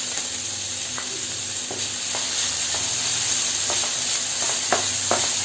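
Chopped tomato sizzling in a pan while cooked for egg thoran, a steady bright hiss with intermittent spoon scrapes and stirring taps throughout.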